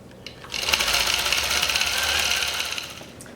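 A longarm quilting machine stitches binding onto a quilt, a rapid, steady mechanical buzz of the needle starting after a brief pause and running evenly for a few seconds, close and alone.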